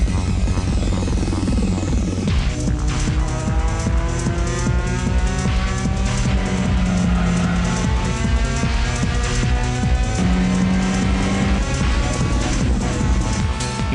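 A car laps the Laguna Seca race track with a loud, steady engine roar that holds throughout, its pitch rising and falling through gear changes, with brief tire squeal at a couple of points.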